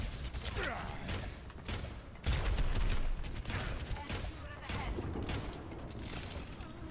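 Torbjorn's turret firing in the game Overwatch, a dense run of rapid mechanical shots and booms that fills the whole stretch, mixed with other game sounds.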